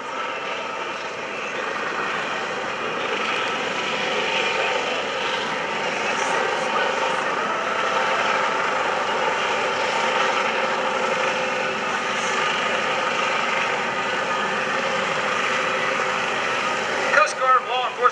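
A steady, droning Coast Guard 9,000-pound helicopter hovers 50 to 75 feet over water at an airshow, rotor and engine noise constant throughout, with a few short bursts near the end; speech-like sounds blend into the roar.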